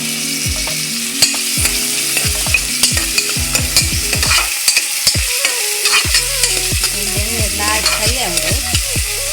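Onions frying with green chili and garlic in a pan for mutton pepper masala, a close, loud sizzle with a spatula stirring and scraping in quick, repeated strokes and no talk.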